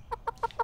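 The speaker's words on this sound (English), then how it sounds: "A chicken, that's right." A chicken clucks four times in quick, evenly spaced bursts, clear and close against a quiet background.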